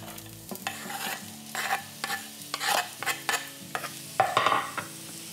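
Onion frying in sesame oil in a pan over medium-high heat, with a spoon scraping and clinking in repeated stirring strokes over a constant close sizzle and no talk.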